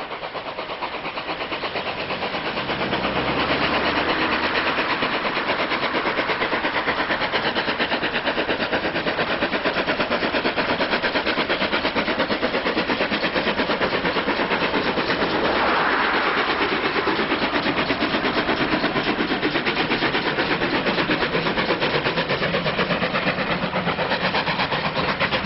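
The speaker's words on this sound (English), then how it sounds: "Resident Pannier Tank 6412 works hard at the same spot to lift its 7 coaches up the gradient." Pannier tank locomotive 6412 works hard hauling seven coaches up a gradient, a steady, loud, continuous exhaust roar and rumble sustained throughout with no voices.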